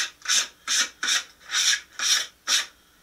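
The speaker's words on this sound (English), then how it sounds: "I run a little light sand over it" Light hand sanding over distressed wood to knock off large burrs: six rhythmic rasping strokes, each a bright scratchy swish with short pauses between, close and clear with no talk.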